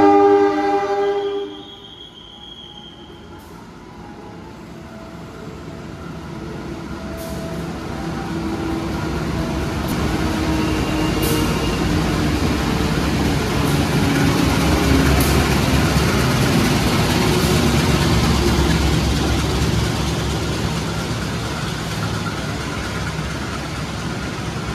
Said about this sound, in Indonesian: ini sudah di rangkaian kereta api Singasari